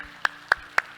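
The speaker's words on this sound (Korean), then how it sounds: "우리 하나님께 영광의 박수합시다" A church congregation gives three sharp, evenly spaced claps in a quick rhythm, close and distinct, with quiet in between.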